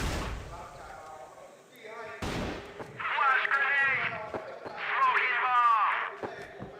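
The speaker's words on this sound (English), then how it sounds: "Some nice flashbangs," Flashbang grenades bursting in a competitive shooter video game match, a sharp bang followed by two long ringing, warbling bursts, with game sounds and a commentator's voice around them.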